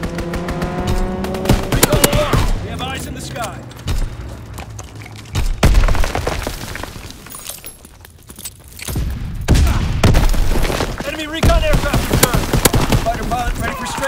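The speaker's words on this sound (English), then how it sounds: "Strafing run inbound." Aircraft strafing run in Call of Duty WWII team deathmatch: loud bursts of rapid gunfire and booming impacts over game sound effects, with brief radio-style voice callouts mixed in.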